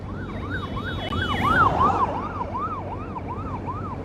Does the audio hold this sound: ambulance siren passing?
yes